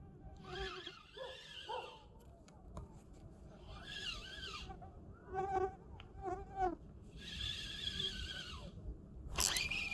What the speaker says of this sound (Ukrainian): Комарі тільки гризуть і темніє.